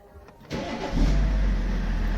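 A BMW E65 with its immobilizer disabled cranks briefly and fires up, settling into a loud, steady idle close by, with no talking.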